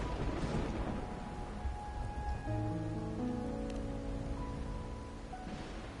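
Steady rain falls at night in the video game Wuthering Waves, a dense continuous hiss of downpour on surfaces with a faint low rumble, under soft tonal game music and no speech.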